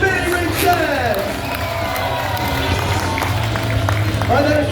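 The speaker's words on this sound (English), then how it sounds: "Ladies and gentlemen, put your hands together for Mr. Benny Richards" A large outdoor crowd at a motorbike stunt show cheers, whoops and claps continuously for a rider, a dense, steady roar of voices with scattered shouts throughout.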